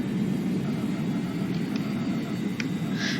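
Thrust reversers roar on a simulated airliner just after landing in X-Plane 11, a broad steady low-heavy engine rumble held at constant loudness for the whole moment, with faint brief higher tones above it.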